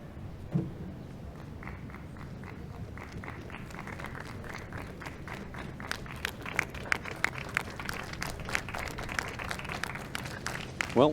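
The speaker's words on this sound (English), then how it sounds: "Well, warm applause from the crowd." A crowd at an outdoor beach karate kata event applauds steadily at moderate distance. Individual claps grow sharper and more distinct toward the end.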